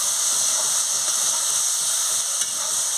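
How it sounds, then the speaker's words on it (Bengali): Eggplant frying in a pan with neem leaves about to be added, giving a steady loud hiss and sizzle that runs unbroken throughout, close and alone with no talk. "চাপাটা খুলে নিয়ে ভালো করে ভেজে নিচ্ছি।"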